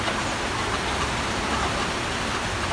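Heavy rain pours down as a dense, even hiss that stays loud and constant throughout, with no voices.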